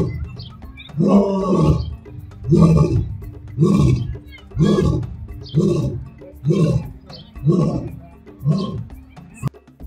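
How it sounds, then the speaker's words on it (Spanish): A lion roars in a rhythmic series of deep, grunting bellows, about seven heavy pulses spaced roughly a second apart, loud and close, each swelling then dying away. "Al rugir, el león frunce la boca, saca el mentón y apunta hacia el horizonte"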